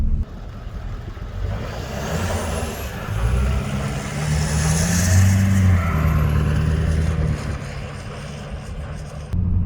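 Truck on BFGoodrich KO3 tires spinning and accelerating on very hard, slippery ice at minus 19 degrees, a loud sustained engine roar with rising whine and tire noise, heard close and alone.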